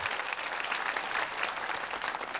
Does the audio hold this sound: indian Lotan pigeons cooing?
no